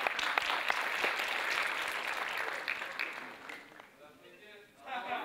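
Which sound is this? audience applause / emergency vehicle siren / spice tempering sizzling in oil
audience applause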